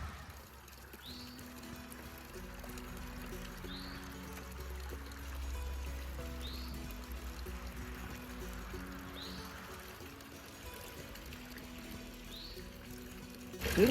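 Water from a solar water pump pours steadily into a pond at a cabin garden, a continuous soft splashing trickle with faint birds chirping now and then in the background.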